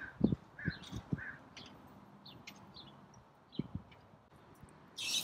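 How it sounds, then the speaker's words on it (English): A crow outdoors near bushes gives several short caws in a loose series, fairly close and moderately loud, along with a few other faint chirps and a rustle at the end. "I hear a crow."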